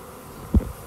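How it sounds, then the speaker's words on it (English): A swarm of honeybees crowds around someone catching it by hand, a low buzzing hum close by with a brief soft thump midway and no talking. "I can feel them buzzing all over my hand."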